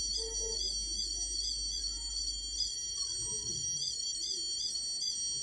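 A handheld DTH LNB signal tester gives off a steady run of high electronic beeps whose pattern shifts over a few seconds, close and clear over a low hum.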